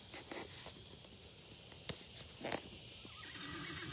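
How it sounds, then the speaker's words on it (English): Horses at a way station, with a short neigh standing out over steady outdoor background noise and a few faint hoof or movement sounds. "We are going to show you the horses."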